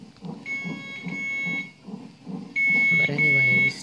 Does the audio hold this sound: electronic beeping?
yes